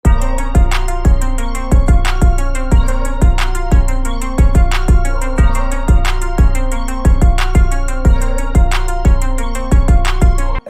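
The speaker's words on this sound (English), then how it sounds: "this is what the 808 and the kick sound like." A hard Detroit-style beat built in FL Studio: booming 808 bass notes locked to a punchy kick drum in a steady, repeating pattern, loud and alone without any voice.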